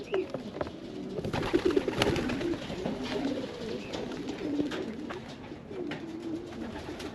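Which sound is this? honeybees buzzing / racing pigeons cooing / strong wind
racing pigeons cooing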